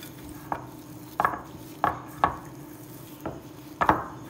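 Roasted almonds being mixed into chilled nankhatai dough, heard as six sharp, irregular knocks and taps against a bowl, close and fairly loud over a quiet background hum.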